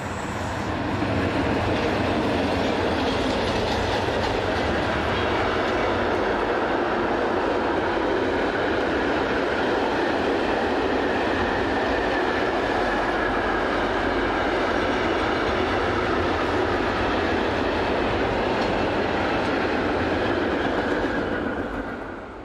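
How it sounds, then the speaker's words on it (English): Locomotive 155038 roars past hauling a northbound mixed freight train on a European railway, a loud, continuous rumble of wheels and wagons that holds steady for the whole stretch, with no voices. "155038 hurries through with that northbound mixed freight just 2 minutes later."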